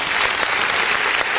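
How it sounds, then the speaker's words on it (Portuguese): Church congregation claps in a steady, dense burst of applause, loud and close, during a Sunday worship service. "Vamos aplaudir o nome do nosso Deus."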